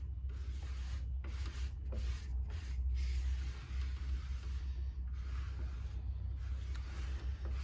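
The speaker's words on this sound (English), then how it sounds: "I'm gonna put just a thin little coat of shellac on here" A thin coat of shellac sealer is sprayed onto a pore-filled guitar body as a steady close hiss with a few brief breaks, no voices.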